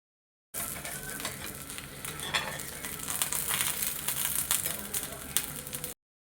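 Moong dal dosa (pesarattu) sizzles steadily on a hot pan, with continuous frying crackle and some stirring or scraping sounds throughout, fairly close and moderately loud.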